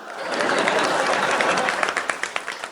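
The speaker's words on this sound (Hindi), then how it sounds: "आपने जिस तरह से ताली बजाई" An audience of women at a comedy show claps together, a steady close applause that swells and holds with some laughter and crowd voices mixed in.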